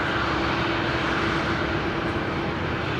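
A Boeing 737-700 airliner in from Canberra rolls on the ground at Brisbane Airport at night, a close, constant engine roar with a faint whine running through it, alone without talk.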